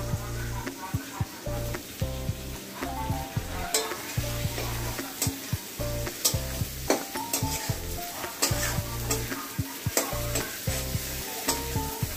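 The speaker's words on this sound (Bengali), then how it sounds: "আমি এখানে একটু টমেটো কুচি দিয়ে দেবো তেলের উপরে।" Chopped tomato hits hot oil in a home kitchen while a fish curry is being cooked, giving a steady sizzle broken by repeated scraping and clinking of a spoon stirring in the pan.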